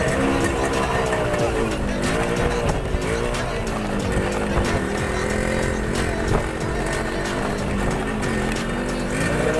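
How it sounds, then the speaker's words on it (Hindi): Motorcycle ridden through a narrow street in Delhi, a continuous loud engine drone with rising and falling revs throughout, close and steady, with no speech. "हम जा रहे हैं एक छोटी सी राइड मारने के लिए अपनी बाइक को लेकर"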